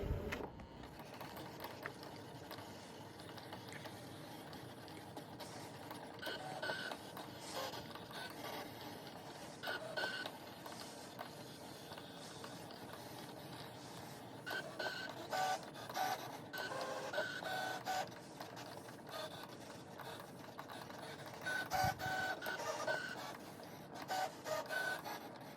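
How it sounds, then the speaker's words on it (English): A sticker cutting machine cuts die-cut stickers, giving a continuous mechanical whir and rhythmic printer-like carriage movement with small clicks, steady and close, with no talking. "Once your machine is done cutting out the stickers"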